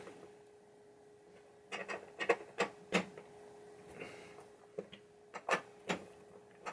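Tools working screws into a flipper bracket on a 1986 Gottlieb Hollywood Heat pinball machine, giving a series of sharp clicks and ratcheting taps in irregular bursts, close and moderately loud over a steady low hum.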